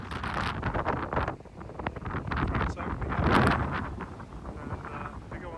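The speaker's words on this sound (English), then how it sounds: "It does get really windy" Strong wind buffeting the microphone in loud, rumbling gusts that rise and fall without a break.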